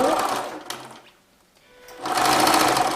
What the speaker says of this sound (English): I'm going to start sewing it.